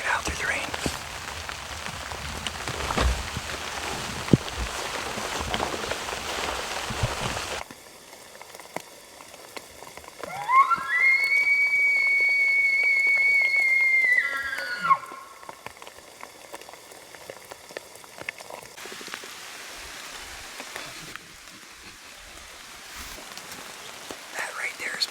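Rain patters steadily on the ground and foliage during an elk hunt in Washington, a soft, diffuse hiss that thins out midway while a high tonal call rises and falls, then resumes.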